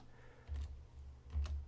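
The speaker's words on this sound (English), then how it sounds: "And I'm typing with fingers because my hands are full." Slow computer keyboard typing with fingers during a Star Wars: Legion live chat, two soft separated bursts of keystrokes a second apart, quiet and close, no talking.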